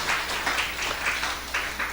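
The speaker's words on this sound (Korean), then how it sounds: "우리 박수 한번 해주시기 바랍니다." A church congregation claps during a Sunday morning worship service, a moderately loud spatter of hands that rises and falls in rhythmic bursts roughly every half second.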